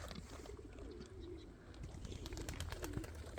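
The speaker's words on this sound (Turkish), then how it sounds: "Kuş arkadaşlarımız da burada." Pigeons coo softly, a low rolling call repeated a few times, with light chirps and rustling nearby.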